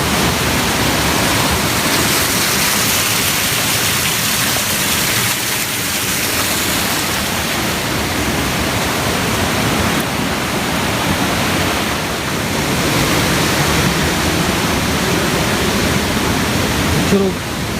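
The Curug Luhur waterfall in Sukabumi, Indonesia roars steadily, a loud, unbroken rushing wash of water that continues without pause throughout.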